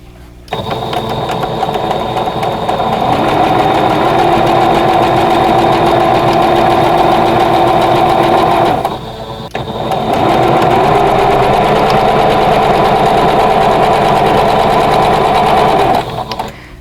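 A sewing machine stitches quilt block triangles for a vintage quilt block, running in a steady loud motorized whir for about eight seconds, pausing briefly, then resuming at the same even pace until it stops.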